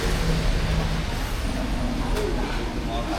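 Heavy rain falling outside in Baguio, Philippines, a steady dense hiss with a low rumble, loud and continuous, with some voices in the background.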